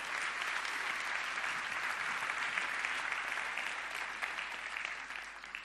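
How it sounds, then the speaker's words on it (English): Steady, dense applause from a large audience, continuous and even throughout, with no voices standing out. "Give yourself a round of applause for that."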